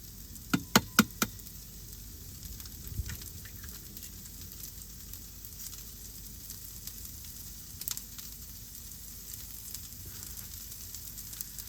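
Food sizzles gently in a pan inside a campervan, a soft steady frying hiss with a few sharp knocks of utensils near the start and scattered light taps throughout.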